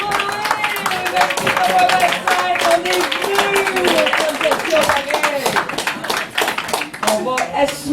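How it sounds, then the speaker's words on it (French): Clapping from an audience at a slam poetry night in a Montreal bar, steady and close, with a host talking over it and a child-like voice briefly heard. "on se donne une grande main d'applaudissements parce qu'on est venu ici jusqu'à ce moment"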